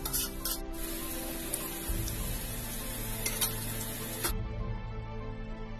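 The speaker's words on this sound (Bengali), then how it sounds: "পেঁয়াজটাকে ভালোভাবে ভেজে নেব।" Onions fry in hot oil in a pan for chicken yakhni pulao, a steady close sizzle with soft crackles and occasional stirring scrapes throughout, with no talking.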